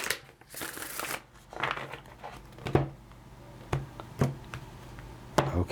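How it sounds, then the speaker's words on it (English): Tarot cards being shuffled by hand, soft papery riffles and taps in a few short bursts with quiet gaps between them, close and fairly faint. "Let's go ahead and get this one last shuffle."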